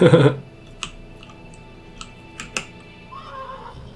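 A short, loud horse whinny in the video game Mortal Online 2 at the start, followed by scattered clicks and taps and a faint electronic tone.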